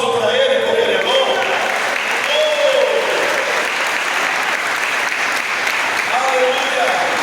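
A church congregation applauding during a Sunday morning pastors' gathering, loud sustained clapping filling the room for several seconds, with voices calling out over it.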